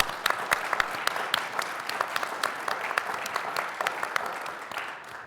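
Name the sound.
applause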